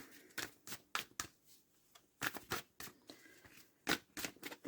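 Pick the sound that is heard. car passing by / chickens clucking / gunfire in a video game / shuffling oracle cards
shuffling oracle cards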